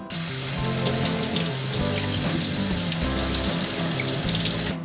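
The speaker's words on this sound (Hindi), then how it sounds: "तो अब ये पत्तों को हम 3 से 4 बार अच्छे से धो लेंगे।" Moringa leaves rinsed under a running tap in a sink, a steady close rush of water with splashing and trickling throughout.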